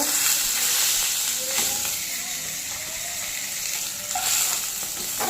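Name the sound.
fish (pabda) frying in oil in a pan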